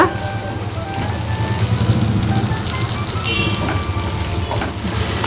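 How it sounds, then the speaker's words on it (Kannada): Cumin seeds fry in hot oil for a paneer green peas masala, a loud, close, continuous crackling sizzle with dense popping that holds steady throughout. "ಇದಕ್ಕೆ ಈಗ ನಾನು ಒಂದು ಸ್ವಲ್ಪ ಜೀರಿಗೆಯನ್ನು ಹಾಕ್ಕೊಳ್ತೇನೆ ಸ್ವಲ್ಪ ಫ್ರೈ ಮಾಡಿಕೊಡುವ"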